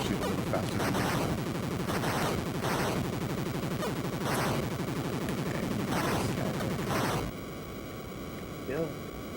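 Rapid enemy gunfire from the 1989 NES game Captain Skyhawk crackles as a dense, loud stream of noisy chiptune shots over music, then cuts out near the end, leaving steady tones.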